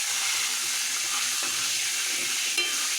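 Cinnamon, two bay leaves and a white cardamom pod sizzle in plenty of hot oil in a wok already used for frying fish, a dense, steady crackling hiss close by with no voices.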